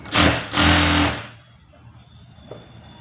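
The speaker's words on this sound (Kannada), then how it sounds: "ಫುಲ್ಲು ಸ್ಟ್ರೈಟ್ ಉದ್ದಕ್ಕೆ ಅದೇ ಥರನೇ ಸ್ಟಿಚಿಂಗ್ ಹಾಕ್ಕೊಳ್ಳೋಣ" A sewing machine runs a straight line of stitching along saree and lining fabric, a loud close whirring burst that stops after about a second and leaves a quiet room with a small tap near the end.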